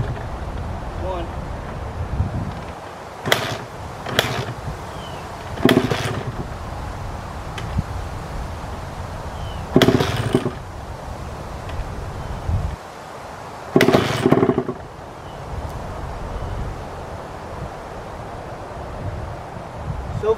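A Honda CR 125 dirt bike is kick-started, several sharp, separate kicks against steady outdoor wind noise, without the engine firing.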